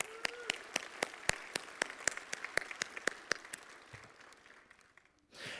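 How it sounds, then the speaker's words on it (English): Sparse, distinct handclaps from a security conference audience applauding sponsors, with a few sharp individual claps standing out, thinning toward the end before a burst of other noise. "So let's give a round of applause for all of our sponsors"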